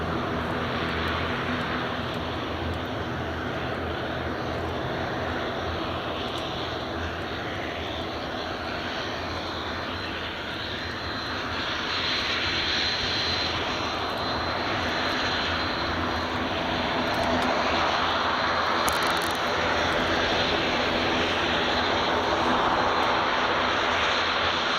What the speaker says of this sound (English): Got a Jet2 just taxiing out now as well